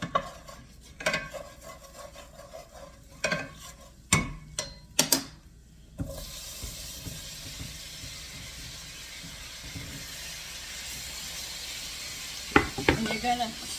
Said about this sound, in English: you're going to saute them till they give up their juices